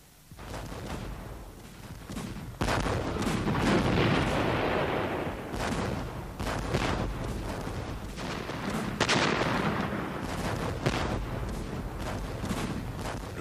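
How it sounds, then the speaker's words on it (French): A British World War I artillery bombardment by massed cannon rolls on as continuous heavy rumbling, with repeated booming blasts layered over a dense, roaring wall of fire. "Le bombardement britannique dure 7 jours. Le bruit des canons se fait entendre jusqu'à Londres."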